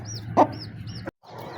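Hen clucking to call her chicks, a few short calls near and clear, with a louder cluck burst early, amid other chickens in a backyard flock.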